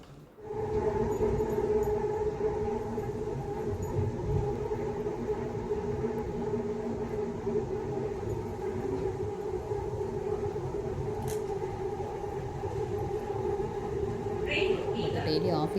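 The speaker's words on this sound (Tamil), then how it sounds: "ஸோ மெட்ரோ பிடிச்சி போயிட்டுருக்கோம்." Steady rumble and hum inside a moving air-conditioned metro train in Bangalore, constant throughout, with a faint chime near the end and quiet voices in the carriage.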